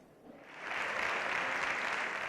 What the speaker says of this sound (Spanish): Larga ovación de la bancada socialista y de Podemos al presidente del Gobierno a su entrada al hemiciclo.